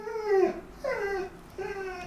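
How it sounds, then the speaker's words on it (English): A pet dog whimpers indoors in three drawn-out, falling whines with short pauses between them, fairly close and clear over a faint room background. "Sorry, my dog's crying."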